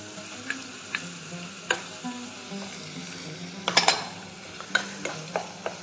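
Meat and onions fry in a pan for a stuffed pastry filling, a soft continuous sizzle broken by scattered utensil scrapes and taps as it is stirred, with no voices.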